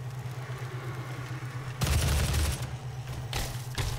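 Heavy assault rifle fire in the DOOM Snapmap game, a dense loud burst of rapid shots followed by two shorter bursts over a steady low hum, no talking.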